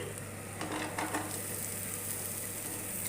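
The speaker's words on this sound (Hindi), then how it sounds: "अब मैं इसके अंदर 1 टेबल स्पून बारीक कटा हुआ लहसुन डाल दूंगी," Finely chopped garlic frying in a pan with scrambled egg, a soft, steady sizzle with faint stirring scrapes, quiet and continuous throughout.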